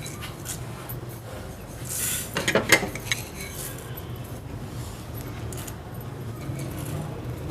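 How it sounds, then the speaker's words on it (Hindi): Whole garam masala spices dropped into a frying pan on the stove, giving a short cluster of clinks and rattles around the middle over a low background hum, with no talk. "तो उसमें हम सारे गर्म मसाले डाल देंगे।"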